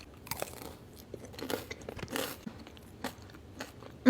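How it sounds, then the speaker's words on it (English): Crunchy bites and chewing of a cookie studded with waffle cone pieces, heard close up as a series of irregular crisp crunches with no talking. "The waffle cone pieces are actually crunchy and taste pretty fresh."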